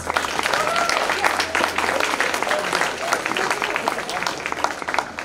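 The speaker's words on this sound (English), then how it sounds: "Please give them a huge round of applause." An audience gives presenters a big round of applause, dense, energetic clapping that holds steady for several seconds at close range, without speech over it.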